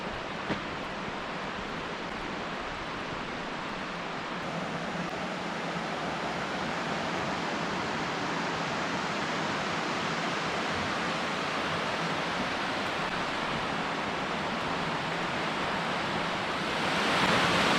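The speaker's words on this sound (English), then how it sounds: "Don't you just love the sound of the water?" Water rushes and flows steadily at Natural Bridge State Park in Virginia, a dense continuous roar close by that swells slightly toward the end, with no talk.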